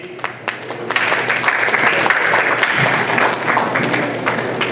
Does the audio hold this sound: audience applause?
yes